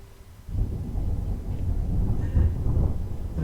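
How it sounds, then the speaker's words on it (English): Thunder rolling during a storm outside, a low continuous rumble that swells after a quiet start and holds steady, fairly loud and broad, with no voices over it. "We've got thunder, it's all happening at the moment."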